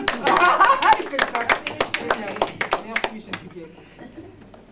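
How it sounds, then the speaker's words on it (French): Studio audience applause at a French variety show, a dense burst of clapping that starts loud and thins into scattered, fading claps over a few seconds. "On peut l'applaudir."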